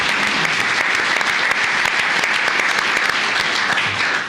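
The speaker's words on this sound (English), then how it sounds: "Let's give her a round of applause." Sustained applause from an audience at a county commissioners court meeting, honoring a woman for 25 years of service; dense, steady clapping fills the room for several seconds without talk.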